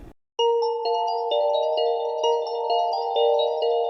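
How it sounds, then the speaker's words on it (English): Dream Bell synth instrument playing bright, bell-like tones that ring in a steady sequence of overlapping sustained notes, alone after a brief silence. "Dream Bell is one that I was just so delighted when I first found it"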